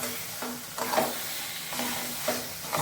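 Banana stem mash with grated coconut is stirred in a hot pan, giving a soft continuous sizzle with several rhythmic scraping strokes of the spatula, close and moderately loud.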